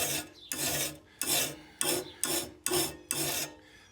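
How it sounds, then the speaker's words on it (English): A rasp file drawn over a lawn mower blade, seven loud scraping strokes in a steady back-and-forth rhythm, each a harsh gritty burst with short pauses between, close up with no talking. "The rasp will take a lot of metal fast."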